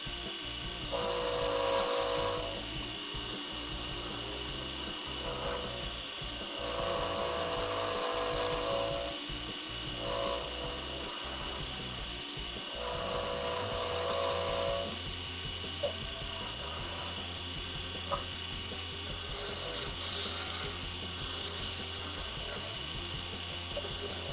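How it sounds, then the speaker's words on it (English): A carbide scraper scrapes across wood in repeated strokes, a steady rasping texture that swells and fades in several passes, fairly close, with a couple of small clicks and no talking. "We're gonna go with this carbide scraper."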